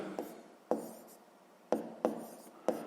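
Pen or chalk strokes tap and scratch in short separate bursts while a math solution is written out, about five distinct marks over a few seconds, close and fairly quiet.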